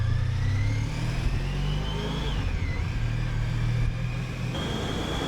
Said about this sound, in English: I still can't quite over the sound of that bike, because it's such a sort of turbine-y sound.